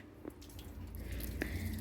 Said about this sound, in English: Then just throw it all the water, and wash it and rinse it out all the water from the